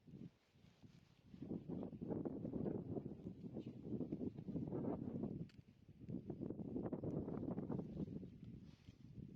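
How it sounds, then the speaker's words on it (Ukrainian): Strong wind roars across the microphone in long gusts, swelling and easing twice with a brief lull in between, with no voices. "Як бачите, дуже сильно дме вітер."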